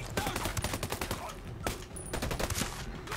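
Rapid automatic gunfire in Ghost Recon Breakpoint, dense overlapping bursts of shots with sharp cracks throughout, loud and close.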